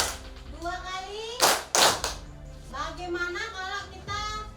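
A group of children at a village gathering gives a couple of sharp, loud claps in unison, with brief bursts set between an adult's talk and children's voices.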